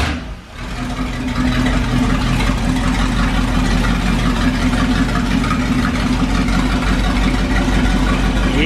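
A 440 big block V8 in a 1970 Plymouth Duster muscle car fires up and runs loud and close, a dense steady roar with a brief dip at the start before settling into a strong sustained rev.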